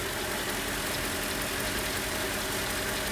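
A Mercedes G500 engine idles cold, not yet warmed up, with a steady, even rumble heard close up and running without interruption.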